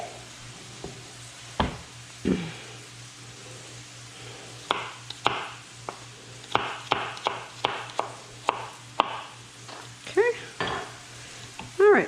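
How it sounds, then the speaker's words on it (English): Chopped onions and shallots mixed into meat for a meat pie, with a spoon scraping and knocking in quick, uneven strokes over a low steady hum, close and fairly quiet, no talking. "I'm going to mix those into our meat."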